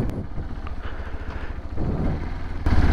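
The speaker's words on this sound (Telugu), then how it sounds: "ఇప్పుడు ఎక్స్పల్స్ని ఒక చిన్న ఆఫ్ రైడింగ్ ప్యాచ్లో టెస్ట్ చేసి చూద్దాం." A Hero Xpulse 210 motorcycle riding a short dirt road patch full of potholes, its engine a steady low rumble that swells louder near the end.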